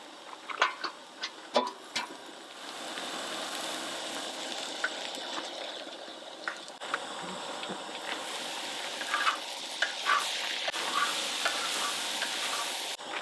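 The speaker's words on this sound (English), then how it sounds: "we're going to go ahead and put the garlic on now" Garlic frying in a pan at an outdoor trail camp gives a soft, continuous sizzle, with scattered clicks and scrapes of stirring throughout.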